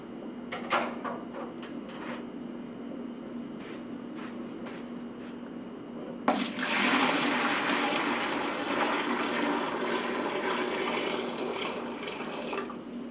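Water heated to 168 degrees for brewing a sweet stout pours into a cooler, a faint trickle at first and then a steady, louder rushing splash that continues without talk.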